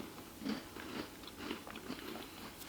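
Quiet crisp bites into a crunchy Vienna sand cookie filled with peanut butter chocolate, a few soft crunches spaced close to the mic with no talking.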